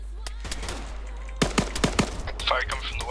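Gunfire in the video game Arma 3, sharp single shots then a quick burst of several cracks, loud and close, over a constant low hum with some radio-style chatter.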